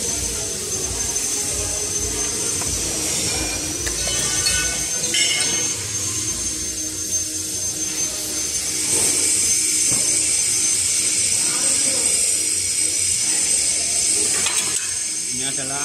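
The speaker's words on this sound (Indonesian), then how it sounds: "Terus kita lanjutkan dari yang campuran dari mixer, dengan mesin cetaknya ini." A briquette press machine fed with mixer dough blended with starch glue runs loudly and continuously, a harsh mechanical rumble with metallic rattling and a steady high whine throughout.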